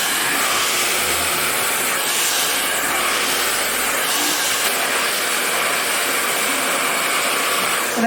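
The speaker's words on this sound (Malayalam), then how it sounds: "എനിക്ക് ഭയങ്കരമായിട്ട് ഇഷ്ടപ്പെട്ടു ഡ്രയർ." A 2500-watt HNK hair dryer blows steadily on hair during a soft blow-dry styling, its loud, close broadband whoosh continuous and unbroken throughout, with faint wavering as the airflow shifts.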